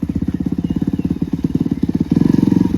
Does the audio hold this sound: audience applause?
no